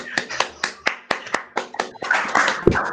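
Evenly spaced single claps, about four per second, ring out close and loud, then give way to a brief burst of louder, rougher noise at the end.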